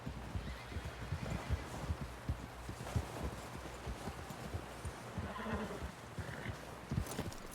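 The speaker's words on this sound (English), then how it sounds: "Someone help John down off this horse." Horse hooves clip-clopping at a walk in the video game Red Dead Redemption 2, an irregular string of soft hoof knocks with a whinny, fairly quiet and close, with faint background voices.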